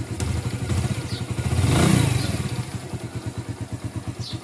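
A motorcycle engine with a repaired timing chain tensioner chugs steadily at close range after starting, a brief swell of revving in the middle before settling back into an even, pulsing rhythm.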